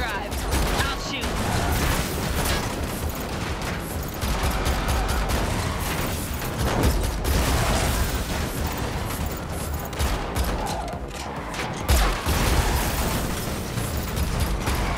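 Dense gunfire in The Matrix Awakens Unreal Engine 5 game: sustained rapid bursts of shots and automatic fire crackle nonstop over a busy game soundscape, with a few heavier impacts and some voices mixed in.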